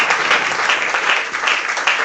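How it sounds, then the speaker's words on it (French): Loud, sustained applause from a church congregation at a grand worship celebration service, steady clapping and cheering filling the room throughout. "Qu'on acclame très fort, je veux qu'on acclame"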